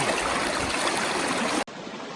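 A river stream rushing outdoors at a riverside cookout in Portland, Jamaica, heard as loud, continuous broadband water noise close by that cuts abruptly near the end to a quieter flow.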